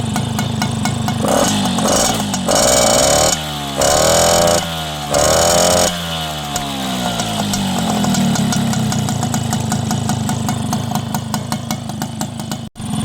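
Rebuilt Yamaha Galaxy scooter engine idling steadily after a cylinder and piston change, with a few brief revs early on, a close, continuous mechanical clatter throughout and no talk.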